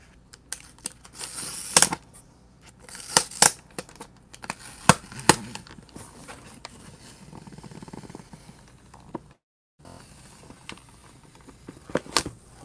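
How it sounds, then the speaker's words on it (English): Tape being peeled off the cardboard box of a 1/24 scale Rolls Royce Phantom diecast model car, heard as sporadic close crackles and sharp tearing bursts separated by quiet stretches, with no talking. "I'm going to see if I can not destroy the box while taking the tape off"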